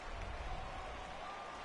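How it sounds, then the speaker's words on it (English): Steady rain patters across a baseball video game's stadium in a broad, even hiss with faint crowd-like texture beneath, continuous and fairly quiet with no talk. "Why is it always raining?"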